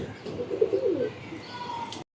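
Giribaz pigeons give a soft, low coo that rises briefly near the start, faint over steady background noise.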